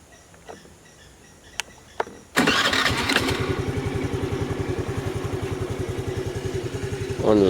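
A Hero Dash scooter gives a few faint clicks, then its engine fires abruptly and settles into a steady, close putter at idle.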